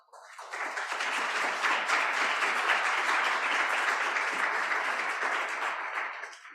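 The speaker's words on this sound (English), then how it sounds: "with a round of applause for our excellent panelists" Sustained audience applause for panelists at a UN symposium session on weapons and ammunition management, a dense even wash of many hands clapping that holds steady for several seconds before tapering off.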